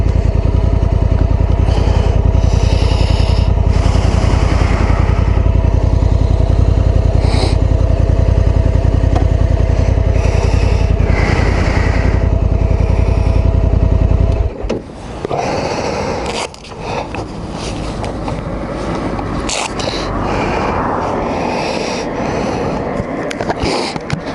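A Honda Africa Twin Adventure Sports motorcycle on a ride, with a loud, steady engine and wind roar that drops abruptly midway into rougher, gusty wind noise and scattered rumbles.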